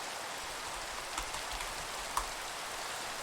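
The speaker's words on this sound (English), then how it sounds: "And it's raining." Steady rain in Minecraft hisses evenly throughout, a constant wash of patter with a couple of slightly sharper drops, no voices.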